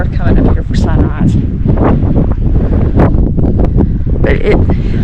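Strong wind gusts buffet the microphone on an exposed mountain summit at sunrise along the MST loop near Sams Knob, a steady loud roar with rustling bursts and no speech.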